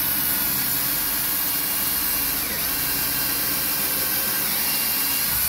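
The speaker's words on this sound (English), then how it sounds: "And you see how my drill is not pushing through?" Continuous high-pitched whine of a power drill boring into a wooden wall stud of a house, steady and loud from start to finish, no talking.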